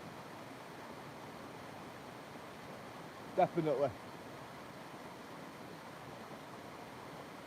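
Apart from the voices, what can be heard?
waterfall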